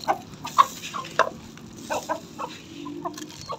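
Several chickens cluck in short, irregular bursts nearby on a rooftop scattered with feed grain, soft cackles overlapping in a quiet space.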